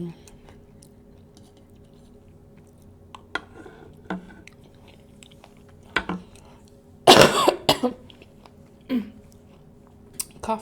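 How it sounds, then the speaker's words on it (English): A person eating a turkey leg with cream corn and honey garlic glazed carrots coughs in a sharp, loud burst after catching a piece of pepper, among scattered close chewing and smacking sounds and a few smaller throat noises. "Coughed on a piece of pepper."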